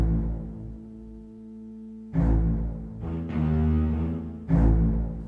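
Eerie Dark Hallways theme from Luigi's Mansion with Luigi's humming removed, video game music: sustained low drone tones with swelling, brighter chordal bursts rising and fading in a slow, moody loop, no voices.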